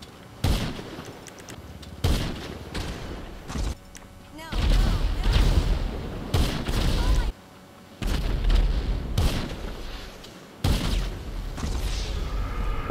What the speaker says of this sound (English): I'm gonna shoot fucking 6 bullets at you